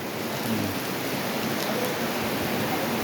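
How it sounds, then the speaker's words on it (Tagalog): Heavy rain at a mountain viewdeck restaurant in Sariaya, Quezon, a steady broadband hiss of downpour on surfaces, continuous and fairly loud throughout with no voices. "Ang lakas ng ulan."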